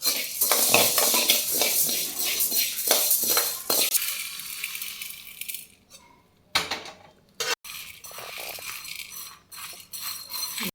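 Curry leaf podi ingredients dry-roasting in a pan, with scraping spoon, rattling utensils and light sizzle, then the roasted mix being tipped and scraped into another vessel with clinks and brief pauses.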